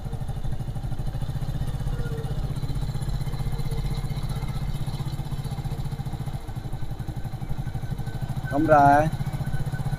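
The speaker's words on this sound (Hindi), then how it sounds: "थोड़ा आरपीएम ज़्यादा करते हैं" Motorcycle engine running at raised RPM, a steady, low, throbbing hum held throughout, with someone speaking briefly over it near the end.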